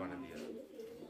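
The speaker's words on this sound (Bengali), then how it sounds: "এখানে আরও একজোড়া শোকিং কবুতর দেখতে পাচ্ছেন" A pair of fancy black pigeons coo softly in a loft, faint and low, with a voice speaking over them.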